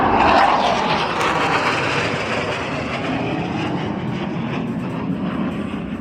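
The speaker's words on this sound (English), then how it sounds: "Blue Angels 5 and 6 are approaching the flight line at 400 miles per hour" Blue Angels jet aircraft at an air show, a pair approaching the flight line at high speed from behind the spectator area; a loud, steady broadband roar that stays strong throughout.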